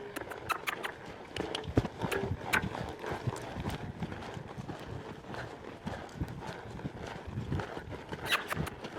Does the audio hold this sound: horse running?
yes